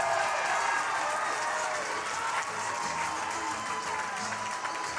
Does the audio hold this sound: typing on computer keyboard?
no